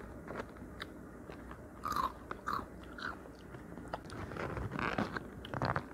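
Crunchy bites and chewing on hot, crispy lemon fried chicken, close to the mic, with repeated crackling crunches and no talking.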